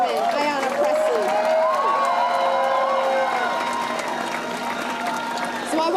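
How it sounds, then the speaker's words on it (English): Rally crowd marking the 60th anniversary of the 1965 Freedom Rally, a loud dense roar of applause and cheering with voices and shouts over it, sustained for six seconds. "Another round of applause, please, for our Congresswoman, Ayanna Pressley."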